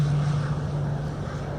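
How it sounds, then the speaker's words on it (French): A Super Tucano turboprop trainer takes off for a circuit at a military flight school, its loud engine giving a steady, close droning roar with a constant low hum throughout. "La verrière se referme et le Super Tucano s'élance pour un circuit de 4 tours à 1000 pieds"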